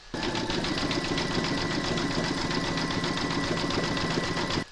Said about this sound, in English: it's going to do the satin stitching around this one